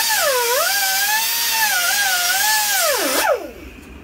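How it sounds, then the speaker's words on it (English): A high-pitched power cutting tool biting into the rear wheel bearing of a 2010 BMW 528i xDrive, a loud close whine that wavers in pitch as it loads up, then cuts off sharply near the end. "I'm gonna cut it a little bit more."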